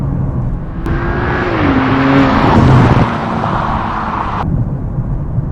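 A 2023 Audi S6 pulls hard under full throttle, its engine note building loud and close over steady road and cabin rumble before easing back after a few seconds.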